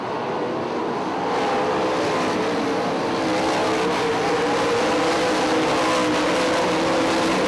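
Sprint cars racing three abreast on a dirt track at Hartford Speedway Park, a dense continuous engine roar that builds slightly and then holds steady, with no talking.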